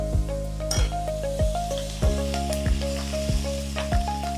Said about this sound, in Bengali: মাছ ভাজার তেলের ভিতর আমি দেব 1 চামচ কালো জিরে ফোড়ন,